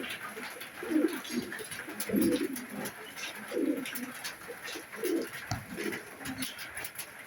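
Budapest racing pigeons coo in soft, repeated low throaty bursts roughly every second, steady and fairly close, over a constant background hiss with some faint chirps.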